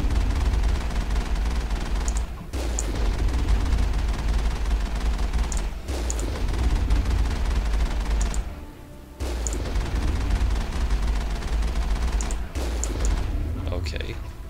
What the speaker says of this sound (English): Let's just take pot shots at it until it dies